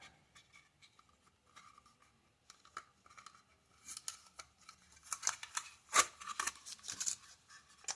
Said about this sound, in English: Let's go ahead and remove this masking tape